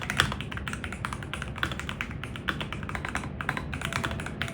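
Steady typing on a Hall effect mechanical keyboard with K-Box inductive switches, quick clacky keystrokes in an uneven rhythm, close and moderately loud with no talking.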